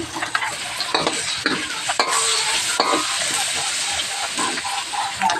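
Garlic and onion sautéing in a pan for stir-fried string beans, a loud continuous sizzle with repeated scraping and stirring strokes of a utensil, close up.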